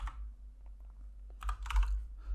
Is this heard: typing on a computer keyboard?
yes